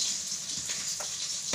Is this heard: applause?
no